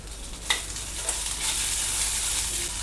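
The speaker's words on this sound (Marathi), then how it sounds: "कांदा आपला भाजतोय, यातच आपल्याला लसूण घालायचं आहे।" Onion fries in a pan as garlic cloves and two pieces of ginger go in, giving a close, bright sizzle with a quick spike as they hit the oil, then an even hiss.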